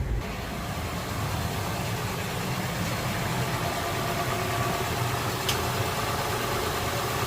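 Honda Pilot 3.5L engine running at raised revs during a coolant air purge, a steady loud broadband hum and rumble throughout, close and continuous.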